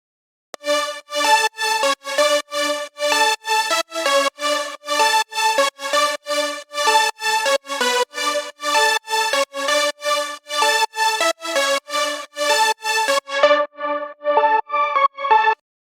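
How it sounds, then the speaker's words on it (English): A bright, buzzy progressive house synth lead, made in FL Studio Mobile, plays a steady pulsing pattern of short chords, loud and upfront with no other sounds, ending in a slightly thinner tail. "all together drop lead sounds like this"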